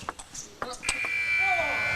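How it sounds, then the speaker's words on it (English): End-of-match buzzer at a professional T2 APAC table tennis match, a sustained electronic tone starting partway through and holding steady, with commentary and sharp ball and crowd sounds just before it. "And the buzzer goes"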